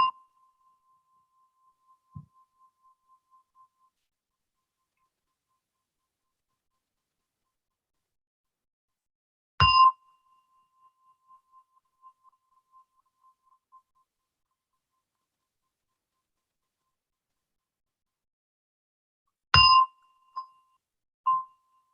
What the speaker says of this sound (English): with the sound of a gong, I will lead you the meditation